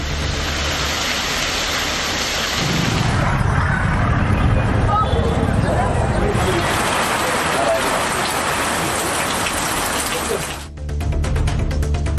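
Moderate rain falls over misty hill-station Kodaikanal, a steady broadband hiss of drops on surfaces that runs throughout and briefly dips near the end.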